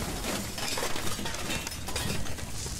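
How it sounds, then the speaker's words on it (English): An explosion in the military video game Squad, set in the Al Basrah invasion, heard as a loud, dense blast of crackling debris and noise that fills the whole moment with no talking. "The explosion freed me."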